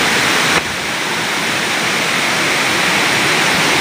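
A mountain stream rushes as a steady, loud, unbroken wash of water noise, close by and filling the whole clip with no voices over it.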